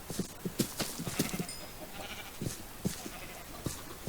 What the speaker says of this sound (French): Hop, un bébé mouton.